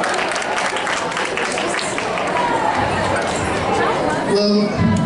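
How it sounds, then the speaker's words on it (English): Audience at a hypnosis show giving its volunteers a steady round of applause, a dense crowd clapping throughout with chatter and cheers mixed in. "Another round of applause, all our volunteers."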